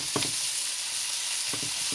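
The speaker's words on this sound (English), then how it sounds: "I'm going to get that sauteed up with the onions." Polska kielbasa sausage sautéing with onions in a hot pan gives a steady bright sizzle throughout, with two brief scraping stirs near the start and end.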